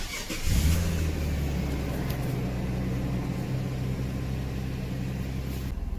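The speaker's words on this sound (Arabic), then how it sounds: "نشغل لكم السيارة." A 2020 Nissan Patrol engine cranks and catches with a sudden surge, then settles into a steady, low idle rumble heard up close and alone.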